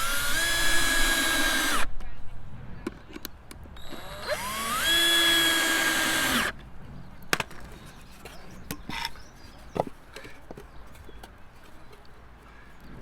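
Power drill with a bit boring into wood, two sustained whining bursts of a few seconds each with a rising pitch on the second, then quieter clunks and handling noises.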